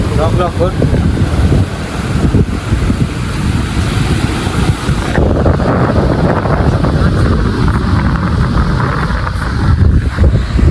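Sea waves wash and splash at Pirwadi beach, a loud, continuous surf roar with wind buffeting the microphone throughout, and a brief voice near the start.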